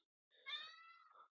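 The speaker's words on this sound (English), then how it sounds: "there's the cat again" A house cat meows once, a single drawn-out tonal call that rises and then trails off, faint and alone with no other sound around it.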